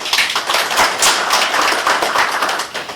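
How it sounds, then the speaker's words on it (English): Loud, steady clapping from a crowd honoring an effort involving Tanzania, dense and continuous for a few seconds with no voices over it. "give her a big applause for that"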